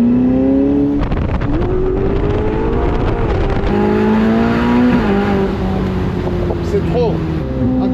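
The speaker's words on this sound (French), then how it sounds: "T'entends le turbo." A very loud Porsche engine rumbles close by, revving and shifting pitch with turbo whistle and growl throughout, while someone talks over it.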